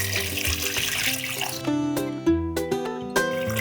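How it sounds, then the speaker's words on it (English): Water poured from a tap over potatoes and salt in an Instant Pot liner, a splashing stream that rises in pitch as the pot fills, with a few sharp bursts as the flow shifts; no talk. "Next, add enough water to cover the potatoes."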